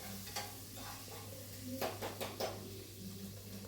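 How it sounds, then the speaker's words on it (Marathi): Green chillies fry in hot oil with mustard seeds, cumin and curry leaves for batata poha, a steady close sizzle with scattered stirring scrapes and clinks from a pan over a low background hum. "इथे मी आता तेल तेल गरम झाल्यानंतर राई जिरा घातल्यावर कढीपत्ता घातला त्यानंतर मी इथे आता मिरच्या छान असा कळसून घेते आहे"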